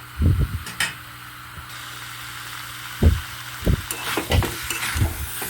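Unripe jackfruit and potato sautéing in a pan: soft sizzling under a low hum, punctuated by several sharp scraping and knocking bursts of a spatula.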